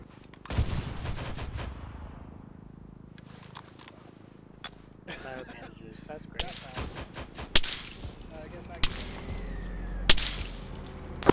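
Mortar rounds and gunfire in ArmA 3 combat: scattered sharp reports and distant booming impacts, some close and loud, others farther off, irregularly spaced over a low rumbling battlefield bed.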